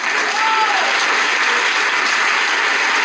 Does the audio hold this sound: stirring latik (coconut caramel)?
no